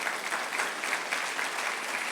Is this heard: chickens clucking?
no